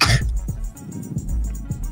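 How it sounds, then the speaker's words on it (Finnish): A single short cough bursts out near the start, followed by quieter breathy throat sounds and faint background noise during a Finnish Among Us game session. "Oliks hyvä yskä?"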